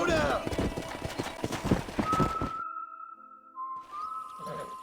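A stallion's hooves clip-clop in a quick, close trotting rhythm in the Red Dead Redemption video game, then stop abruptly after about two seconds, leaving sustained whistle-like tones and quieter background sounds.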